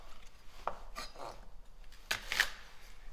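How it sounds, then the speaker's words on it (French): A knife trims the woody end off an asparagus spear for a tomato and asparagus risotto, giving a few sharp, close cuts against a board with quiet gaps between them. "Alors, ce bout-là, je le coupe."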